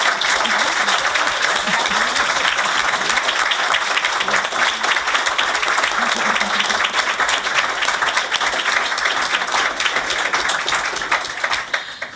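Sustained applause fills a school board of education business meeting, a dense, even clatter of many hands clapping that continues for several seconds before starting to thin at the end.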